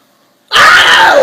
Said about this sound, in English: Ooh, I'm about to sneeze.